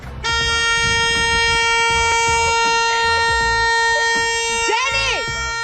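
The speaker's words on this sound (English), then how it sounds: "My f***ing dog honks the horn at me when I take too long." A car horn, pressed by a dog inside the vehicle, blares in one long, loud, unbroken tone, then ends with a brief wavering cry.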